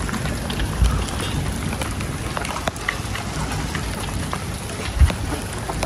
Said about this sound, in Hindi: बहुत शदीद किस्म की बारिश लग गई है।